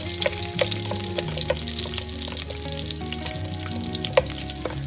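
Garlic pods frying in hot oil for a Chettinad chicken curry, a steady close sizzle with bubbling crackle and scattered sharp pops and spatters throughout.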